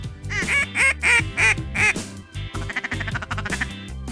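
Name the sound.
mallard ducks quacking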